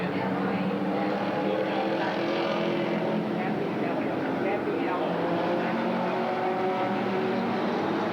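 Race cars roaring around an oval track at the 1987 Roseburg Outlaw 100, a dense continuous engine drone at high volume throughout.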